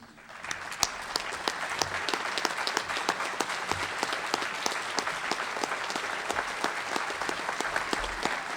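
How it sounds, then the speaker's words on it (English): Standing audience gives a final round of applause for the 2006 Chattahoochee Valley Sports Hall of Fame inductees, with sustained clapping and distinct individual claps standing out throughout. "would you join with me by standing and giving one final round of applause to the class of"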